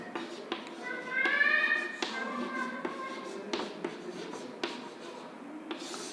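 Chalk or marker writing on a classroom board during a Hindi grammar lesson, a steady run of scratchy strokes and taps with a teacher's faint voice in the room.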